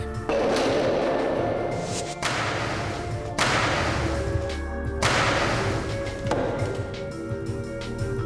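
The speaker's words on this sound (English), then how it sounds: "a 3-inch stone hitting a pumpkin, and a life-size human fiberglass dummy" Three-inch stones are fired at a pumpkin and a life-size fiberglass human dummy in a laboratory hail demonstration, producing five loud, heavy smashing thuds spaced a second or two apart over a continuous background.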